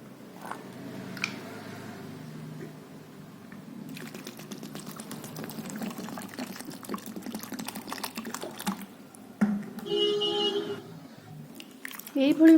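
Water poured into a cooking vessel to wash chopped banana-stem pieces for pakoda, a brief splashing pour under steady speech in a home kitchen.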